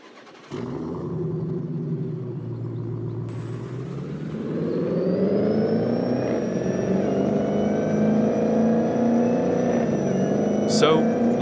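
Engine drone of a vehicle driving in Farming Simulator 22, a steady harmonic hum that rises in pitch and loudness after a few seconds as it accelerates, continuous and close, with a brief high click near the end.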